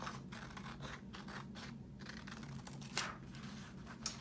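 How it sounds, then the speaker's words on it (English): Scissors cut paper along a drawn black line, a soft, steady snipping and rustling with a couple of sharper snips, close and fairly quiet over a low background hum. "you just need your scissors, and you're just gonna cut on the black line"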